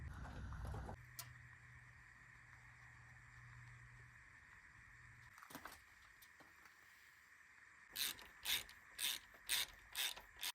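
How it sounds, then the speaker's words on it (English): Ratchet wrench tightening bolts on Holden HZ ute engine parts, a run of rapid, loud clicking bursts near the end after quieter mechanical handling and a faint hum. "it was time to tighten everything up, and that was done"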